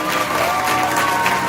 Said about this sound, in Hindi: यीशु के लिए एक अच्छी ताली बजाएं जोर से